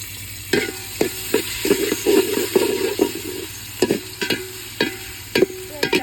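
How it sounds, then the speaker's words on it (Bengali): Garam masala, bay leaves and chopped onion fry in hot oil with a steady sizzle, broken by repeated sharp scraping and tapping strokes of a spatula against the pan, close and clear with no speech. "তেলের মধ্যে দিয়ে দিব গরম মশলা তেজপাতা পেঁয়াজ কুচি"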